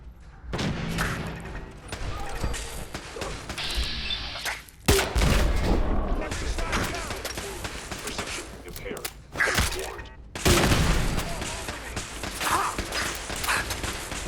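Turret gunfire bursts in Fallout 4, rapid crackling volleys in clusters with short pauses between them, mixed with game effects and a voice talking over parts of it.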